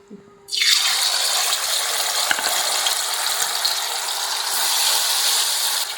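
Marinated chicken drops into hot oil and breaks into a loud, steady sizzle that starts abruptly and holds evenly, close up, with no talking.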